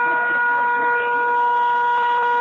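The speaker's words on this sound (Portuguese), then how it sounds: "essa é a buzina do carro" A car horn blares in one long, steady, loud held tone through the whole moment, with faint background noise beneath it.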